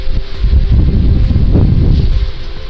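Wind buffeting the microphone during a hill walk in the Pentland Hills near Edinburgh, a loud, continuous low rumble with gusty swells throughout and no speech.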